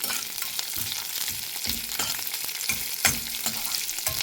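Tempering spices with curry leaves and dried red chillies crackle and sizzle in hot oil, with sharp popping bursts and a few stirring scrapes, close and steady throughout.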